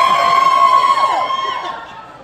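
An audience at a steampunk fashion show cheers and whoops loudly for a costume sewn on a 1960s Singer 401 sewing machine, a dense crowd roar with shouts that fades slightly toward the end.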